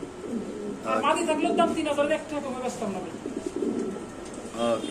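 Lahori pigeons give low, soft coos close by, mixed in with people talking over a steady background murmur.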